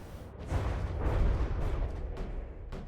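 A deep, rumbling explosion as a cruiser-type ship takes a hit in the naval combat game From the Depths, a sustained low boom swelling and fading with crackling debris.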